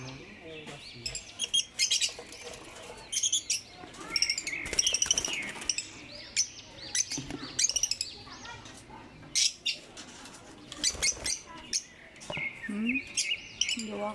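Small African lovebirds, a newly arrived group, chirp and tweet in rapid, overlapping bursts throughout, close and fairly loud, with some sharper high calls and a few soft background sounds.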